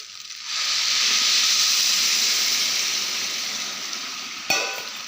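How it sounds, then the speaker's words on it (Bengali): Hot water is poured into a frying pan of fried food, setting off a sudden loud, broad hiss that rises, holds steadily and slowly fades, ending in a sharp clack, with no talking. "গরম জলটা দিয়ে দিই"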